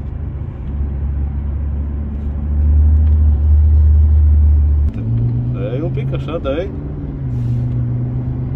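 BMW G11 7 Series from 2022 fitted with a Thor exhaust system, revving in short bursts while driving on a straight road, with a low engine rumble throughout and people talking over it.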